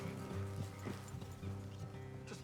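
In the Western video game Red Dead Redemption 2, a horse's hooves clip-clop in a steady galloping rhythm, fairly close and clear, over a low background hum.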